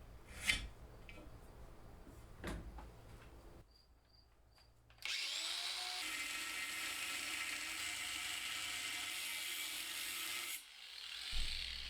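A power tool dresses down the freshly cut edges of a 6-inch piece of 1/4 inch strip. A few sharp clicks come first, then a loud, steady whirring grind holds for about five seconds and stops abruptly.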